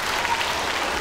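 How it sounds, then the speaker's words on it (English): An elementary school crowd at a Jump Rope for Heart celebration applauds, a dense wash of clapping heard only briefly at steady volume. "Give yourself a round of applause."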